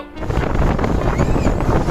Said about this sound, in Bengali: এখানে বেশ জোরে জোরে হাওয়া হচ্ছে এখন ওয়েদার বেশ খারাপ রয়েছে খুব জোরে জোরেই হাওয়া হচ্ছে